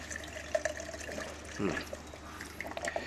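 Water trickles and splashes steadily into a small aquaponic grow bed, with small drips and gurgles, fairly quiet and close, no voices.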